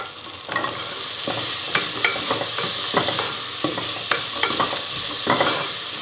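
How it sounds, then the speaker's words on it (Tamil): Carrots, beans and potato sauté in a pan for vegetable pulao, loud close spoon scrapes and clanks repeating irregularly over a continuous frying sizzle. "காய் வந்து ரொம்ப நேரம் வதக்க வேணாம், ஒரு நிமிஷம் வதக்குனா போதும்."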